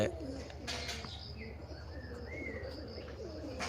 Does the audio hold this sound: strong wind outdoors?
no